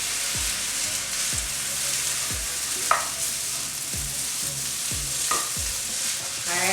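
Leftover fried rice stir-fried in a pan with soy sauce and black pepper, a steady loud sizzle running throughout with repeated scraping strokes of a spatula about every second, no voices.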